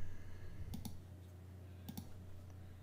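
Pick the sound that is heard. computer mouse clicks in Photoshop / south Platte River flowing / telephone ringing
computer mouse clicks in Photoshop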